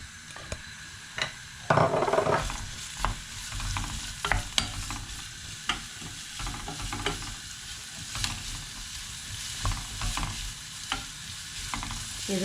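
Onions frying in hot oil for a dried-fish thokku, with a steady close sizzle and irregular scraping stir strokes and clacks from a utensil against the pan throughout.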